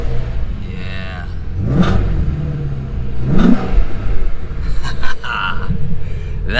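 Ford Mustang Shelby GT350 engine revving close by, two sharp rising blips over a rumbling idle followed by a few quicker throttle stabs, loud and unaccompanied by talk.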